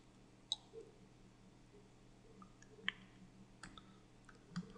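Computer mouse clicks while configuring website theme settings, a few sharp isolated clicks spaced a second or two apart over a quiet background hum, close and faint.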